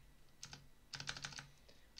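Quiet typing on a computer keyboard, a short cluster of light clicks followed by a quicker burst of several keystrokes, close and alone with no talk.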